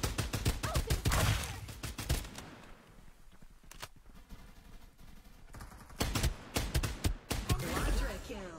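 Rapid bursts of automatic gunfire from the battle-royale shooter Farlight 84, loud clustered volleys at the start and end with a quieter stretch of sparse distant shots between.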